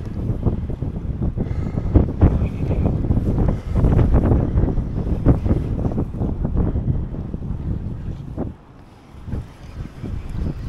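Strong wind on a small boat while pike fishing in blustery weather, loud gusts buffeting the microphone in uneven bursts, easing briefly near the end, with no talking.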